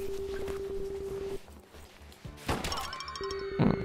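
Punching hits in the Guardian Tales mobile game, a couple of dull thumping impacts over a steady electronic tone and game background sounds.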